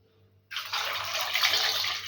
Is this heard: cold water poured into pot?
yes